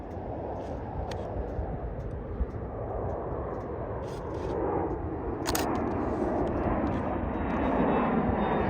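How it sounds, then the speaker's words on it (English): A JSX Embraer ERJ 145 regional jet takes off at Reno on a snowy, clear winter day. A distant, steady jet roar swells gradually, with faint clicks on top and wind across the microphone. "next up we got a JSX Embraer ERJ 145 taking off"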